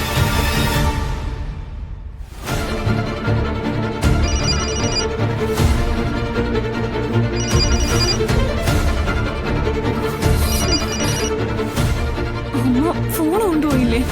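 A phone rings through an unanswered call in a household drama scene, its repeating electronic ring pattern returning in regular bursts, loud and close over a dense bed of dramatic background music.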